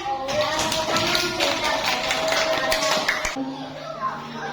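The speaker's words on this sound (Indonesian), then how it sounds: "tepuk tangan buat Ica" Hands clap steadily for a girl named Ica in a classroom setting, a dense burst of tapping claps lasting several seconds with a voice faintly mixed in before it fades.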